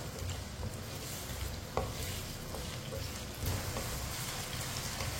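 Potatoes fry in a pan over a medium flame while a spoon keeps stirring them, producing a dense, continuous sizzle with soft scraping, close and steady throughout.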